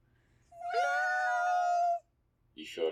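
A voice imitates a cat with a single long, drawn-out meow, loud and close, followed by brief silence and the start of another voice.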